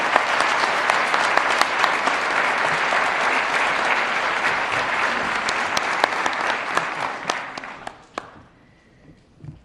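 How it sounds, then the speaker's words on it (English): Applause at a charter academy graduation ceremony for a student completing the JROTC program, a close, dense burst of clapping that runs for about eight seconds before quickly dying away. "give him a round of applause for completing the JROTC program"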